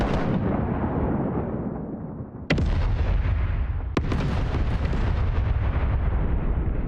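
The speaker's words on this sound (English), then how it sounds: "Fire the cannons." Ship cannons in the pirate video game Rise of Piracy fire in heavy, rumbling bursts, with two sharp, loud blasts standing out over a continuous booming barrage.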